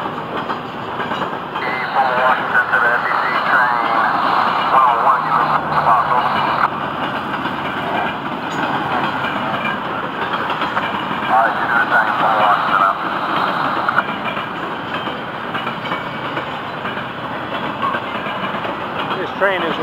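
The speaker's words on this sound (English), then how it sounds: "Nice to see this train at medium speed." A Florida East Coast Railway freight train passes at medium speed with a steady, loud rumble of engines and rolling wagons. Rhythmic wheel clatter runs through the whole passage.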